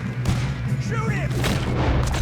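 Gunfire from the Red Dead Redemption 2 video game sounds through a busy, loud mix, with sharp bursts and booms over constant low rumble while voices talk over the action.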